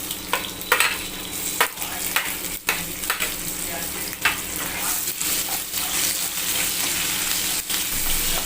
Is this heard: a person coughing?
no